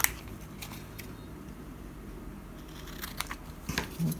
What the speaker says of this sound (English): You can feel where the edge is with your scissors, so you know where you're cutting.